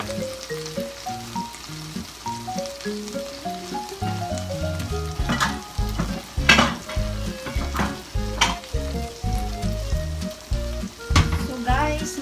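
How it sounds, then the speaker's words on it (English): Tuna steak frying in a pan, a steady close sizzle with stirring and scraping sounds and occasional louder crackles throughout. "So nagluluto tayo ng tuna."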